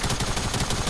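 Rapid automatic gunfire in the video game Fortnite sounds as a dense, steady stream of loud, closely spaced shots that fills the whole moment without a break.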